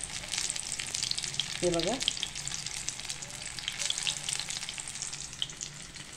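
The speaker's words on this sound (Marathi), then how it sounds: "हा असा तेलामध्ये सोडायचा। आता हे पकोडे मी छान खरपूस होईपर्यंत तळून घेणार आहे।" Paneer pakoda pieces deep-frying in oil, a steady crackling sizzle throughout, with a brief voice speaking near the middle.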